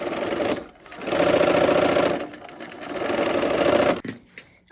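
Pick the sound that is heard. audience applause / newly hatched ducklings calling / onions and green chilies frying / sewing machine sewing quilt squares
sewing machine sewing quilt squares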